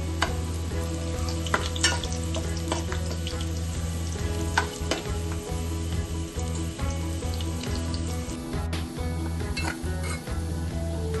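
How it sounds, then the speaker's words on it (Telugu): Onions sizzle steadily in hot oil in a pan while being fried until golden brown for chicken biryani, with repeated close scraping and clinking of a stirring utensil against the pan. "ఫ్రై అవుతున్న ఆనియన్స్ని మధ్యలో కలుపుకుంటూ కొంచెం గోల్డెన్ బ్రౌన్ కలర్ వచ్చే వరకు ఫ్రై చేసుకోవాలి."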